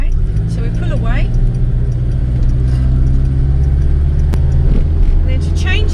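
A Rover P6 2000 automatic pulls away in first gear, its engine a steady low rumble inside the cabin, with a brief sharp click near the end and a person talking over it.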